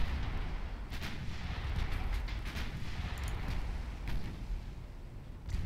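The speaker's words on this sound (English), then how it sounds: "These 2-inch guns really, really do the work." 2-inch naval guns fire in the naval warfare game Ultimate Admiral Dreadnoughts, a faint run of sharp cracks and booms over a low rumbling battle din, repeated irregularly through the clip.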